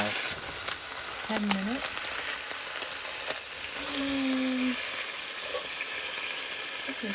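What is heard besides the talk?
pot roast searing in a cast iron Dutch oven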